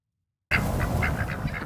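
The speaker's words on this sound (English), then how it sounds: "Hey, chickens." Farm chickens, with a rooster among the flock, give a quick run of rhythmic clucking calls, close and fairly loud, starting abruptly after a moment of silence.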